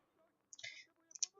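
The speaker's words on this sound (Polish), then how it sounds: "Klikałem, żeby szedł do tyłu." Sharp computer mouse clicks while playing Hitman: Absolution come in two quick bursts, a tight cluster followed by a couple more taps, close and crisp against near silence.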